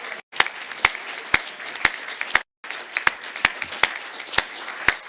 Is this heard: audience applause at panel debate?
yes